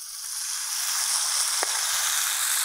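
Beef seasoned with spices and oregano frying in a kazan over a campfire gives a loud, steady sizzle throughout, with one brief sharp crackle partway through and no talking.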